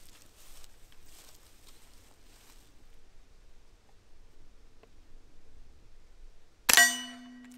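A single sharp report from a suppressed .22 rifle firing a CCI Quiet semi-auto round, a sudden loud crack with a short ringing decay at the very end after several seconds of faint rustling.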